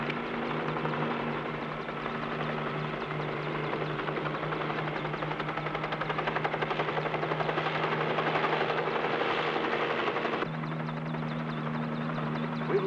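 A helicopter drones steadily nearby, its rotor thumping in a constant rhythmic whir that shifts slightly in tone near the end.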